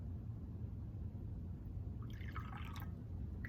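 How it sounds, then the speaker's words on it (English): Water is poured into a cup in a home kitchen, a short, faint trickling splash lasting about a second over a steady low background rumble. "I'm going to put some water in this one."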